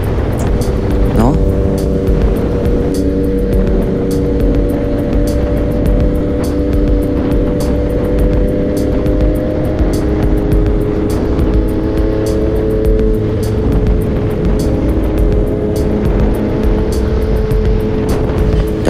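A car cruising on the Skyway expressway with a steady, loud engine drone and road roar, someone talking over the constant hum throughout.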